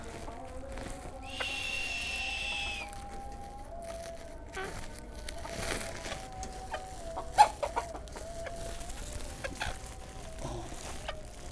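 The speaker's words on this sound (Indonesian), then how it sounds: "Oh ini ayam ketawa nih." Laughing chicken (ayam ketawa) crowing in a long, rapid, cackling series of calls mixed with other clucking fowl and a horse nearby, set against busy outdoor background noise with no talking.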